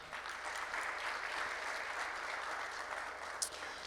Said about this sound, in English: Ladies and gentlemen, a round of applause to all of our partners.